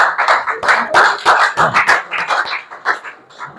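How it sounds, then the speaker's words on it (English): A small group of students in a classroom claps unevenly nearby for a classmate's presentation, sharp individual claps bunching into a brief round of applause that thins out toward the end. "Give him a big round of applause."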